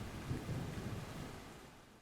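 A monsoon thunderstorm with heavy pouring rain, low thunder rumbling beneath a steady hiss of rainfall that fades slightly toward the end, fairly faint and distant.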